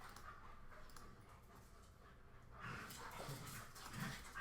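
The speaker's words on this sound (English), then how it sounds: "Please excuse my dog and puppy in the background." A dog and a puppy roughhouse in the background of a Cricut crafting session, with faint panting and scuffling that grows a little louder and busier partway through, with no speech.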